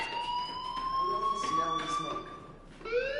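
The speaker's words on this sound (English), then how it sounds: "Hey, do you hear that fire alarm? That means you should be outside." A video game fire alarm sounds with sustained electronic tones that hold steady and then rise in pitch, with a siren-like sweep near the end, moderately loud against a quieter background.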